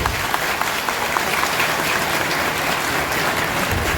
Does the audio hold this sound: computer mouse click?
no